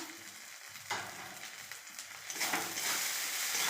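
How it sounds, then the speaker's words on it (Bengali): Spices being stirred and fried in a pan, a continuous bright sizzle that swells louder toward the end with scraping stir sounds, close up and without speech. "এবার আমি ভালোভাবে মশলাটাকে নেড়ে নেব।"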